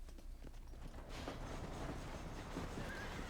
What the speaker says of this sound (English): How do I slow down my horse?